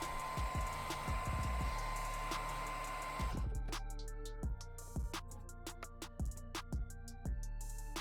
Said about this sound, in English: I run a hairdryer over the paint.